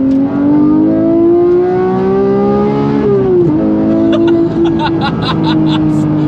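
A Porsche GT3 engine revs loudly and steadily through its exhaust, its pitch climbing, dipping sharply midway, then rising again, with crackling exhaust pops near the end.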